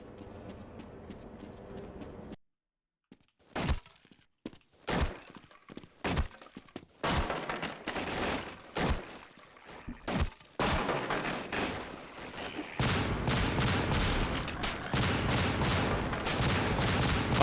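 Gunfire in the video game Half-Life: a dense run of sharp shots, first spaced out, then quick clustered bursts building into near-continuous firing, loud and close with no talk.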